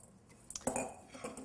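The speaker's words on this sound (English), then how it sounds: "in a bowl, you mix some sort of crouton-shaped dry bread" Dry crouton-like bread cubes being mixed in a bowl for oyster cornbread stuffing, giving a few soft clinks and rustling scrapes against the bowl, close and fairly quiet.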